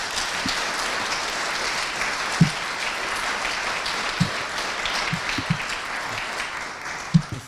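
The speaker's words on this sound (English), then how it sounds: "Thank you for the applause." An audience at a State of the City address in Rochester, New Hampshire gives sustained, dense applause with a few louder nearby claps and thumps standing out, and no voices over it.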